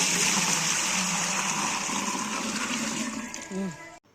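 Water pours in a steady rushing stream into a pot for making gruel, with a brief gurgle and splash near the end as the flow stops.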